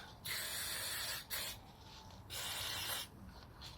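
Brake cleaner sprayed in several short hissing bursts onto the pitted brake caliper piston of a Benelli TNT 125 motorcycle, close and loud, with brief pauses between sprays.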